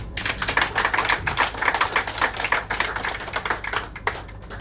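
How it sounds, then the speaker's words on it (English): Wedding reception guests applaud in a dense, continuous burst of clapping that holds steady at close range for several seconds before gradually thinning out. "please give yourselves a round of applause."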